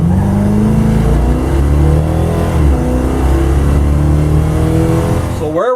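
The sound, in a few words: Plymouth Duster with sure-grip accelerating hard from a launch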